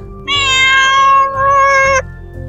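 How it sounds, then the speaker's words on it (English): A cat gives a loud, close, tonal meow in two drawn-out parts with a short break between them, over a quiet background. "Meow, hiss."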